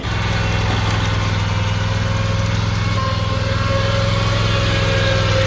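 A lawn mower engine runs steadily nearby, a loud, constant buzzing drone with a low hum and a faint whine above it, with no break and no voices.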